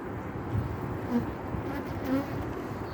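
A low, continuous buzz from many agitated honeybees at an opened hive hums steadily, fairly faint, with slight swells in loudness and no talking.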